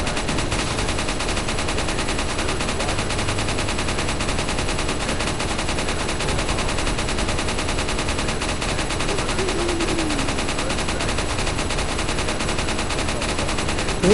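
Gunfire in the survival horror game Resident Evil 4, a dense, continuous rattle of rapid shots at steady loudness, with a voice talking over it throughout.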